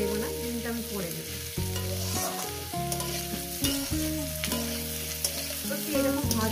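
Vegetables sizzle steadily in a frying pan while a utensil repeatedly scrapes and stirs them, the close crackle running under a gentle musical backing.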